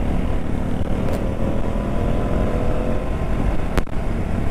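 Motorcycles riding on an Indian highway between Meerut and Nainital, a steady loud engine and road roar with wind noise running throughout, joined by a couple of brief sharp clicks.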